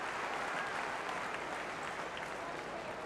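Sustained applause from a home crowd cheering the Sydney Swans at a 1982 VFL football match against the Melbourne Demons, a dense steady wash of clapping with crowd murmur throughout.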